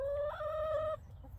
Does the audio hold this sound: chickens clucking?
yes